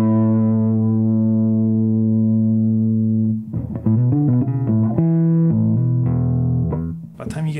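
A bass guitar runs through an MXR M85 Bass Distortion pedal with the distortion knob at about 11 o'clock. One long, thick, fuzzy note is held, then a loud, gritty riff of shorter notes follows.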